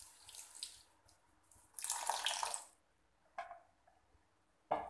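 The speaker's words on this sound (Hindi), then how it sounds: "इस स्टेज पे हम 1 कड़छी पानी की मिलाएंगे" A ladle of water is poured into masala frying in ghee in a kadhai while cooking lauki khichdi, giving a short splashing rush followed by quieter sizzling and a couple of brief splashes.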